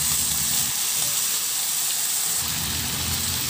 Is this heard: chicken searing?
yes